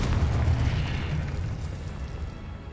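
A Confringo spell explodes in Hogwarts Legacy with a loud, sustained rumbling blast that fills the space and slowly fades over a few seconds, with no talk over it.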